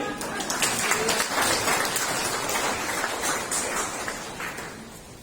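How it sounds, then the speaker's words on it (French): A church congregation breaks into applause at a French-language service, a steady, moderately loud crackle of many hands clapping that lasts throughout without a break. "on peut l'applaudir"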